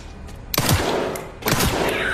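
Gunfire in the Resident Evil Requiem video game comes in two loud, sharp bursts about a second apart, each crack trailing into a noisy echoing tail over steady background game ambience.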